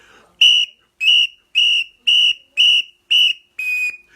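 A whistle is blown seven times in a row, each a short, loud, shrill blast with brief evenly spaced gaps between them, heard alone.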